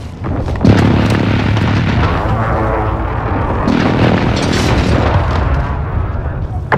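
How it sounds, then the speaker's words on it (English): Heavy booming explosions from a precision airstrike in Call of Duty: Modern Warfare (2019), a dense, loud wall of blasts and rumbling impacts that begins sharply and continues throughout, with gunfire and battle chatter mixed in. "Precision airstrike ready."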